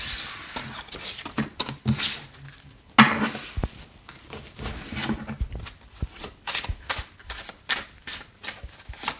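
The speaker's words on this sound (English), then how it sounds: "So let's just shuffle these cards a little bit more" Tarot cards are shuffled close up, with repeated quick riffling and soft flicking bursts in irregular rhythm and no talk.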